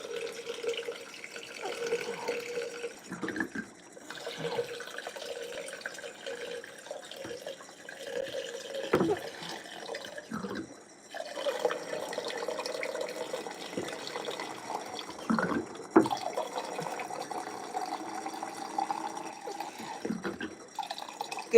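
Cold water pours into a glass in uneven, trickling spurts, splashing and gurgling faintly over about twenty seconds, with pauses between pours.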